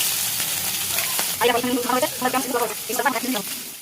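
Pakal fish frying in oil gives a steady sizzling hiss, and a voice talks over it partway through.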